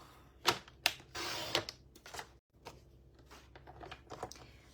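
Paper trimmer slicing cardstock for a handmade card, a few sharp clicks followed by a short scraping cut, then quiet light handling sounds nearby.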